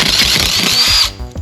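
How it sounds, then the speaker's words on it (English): A power drill runs steadily at high speed while working on a dirt bike, a loud continuous whine that cuts off near the end with a short tail of quieter clatter. "Yeah, definitely getting a drill."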